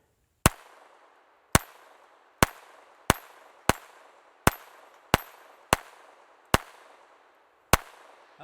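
Walther P22 pistol firing at a steel dueling tree outdoors: ten sharp, loud shots at a fairly steady pace, each about a second apart and trailing off briefly, with no talking.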